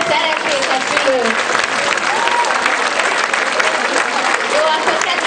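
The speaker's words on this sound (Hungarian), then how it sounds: "Kérnénk egy nagy tapsot, hogyha szeretnék a szülők." Parents give loud, sustained applause to students at a Children's Day event in a Reformed elementary school, a dense continuous wash of clapping from a crowd with some voices mixed in.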